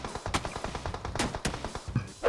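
Rapid gunfire in a PUBG Mobile match, a string of sharp shots at uneven intervals with a few louder cracks standing out.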